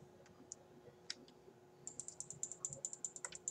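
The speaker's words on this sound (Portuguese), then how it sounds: "Eu vou quebrar esse mouse de tanto clicar assim" Fast bursts of small, crisp clicks from a computer mouse, sparse at first and then a quick, steady run of clicking, close and fairly faint, with no voice.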